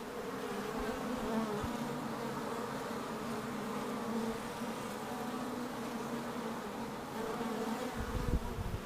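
Honey bees buzz steadily at a hive holding newly hatched young workers, a dense continuous drone heard close and alone throughout.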